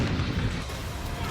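A French artillery cannon fires: a loud, close, broadband boom with heavy low rumble that rolls on through the whole moment, with a second sharp burst at the very end.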